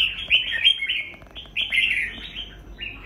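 A red-whiskered bulbul, a strong bird with a harsh voice kept for singing contests, sings bright, loud chirping phrases in several bursts close by, with no talk.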